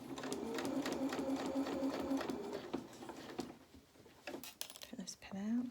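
A sewing machine stitching a seam on a reversible Luna Lapin winter cape, a soft rapid chatter for about three seconds that slows and stops, followed by rustling and a voice.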